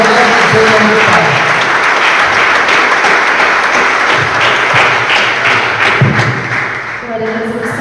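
Congregation applauding loudly in church, a dense sustained wall of clapping with low thumps, steady throughout and tapering slightly near the end, with voices faintly underneath.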